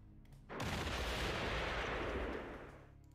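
Artillery fire in the WWII strategy game Panzer Corps Gold: a single loud, heavy booming blast that bursts in suddenly and rumbles on for about two seconds before fading.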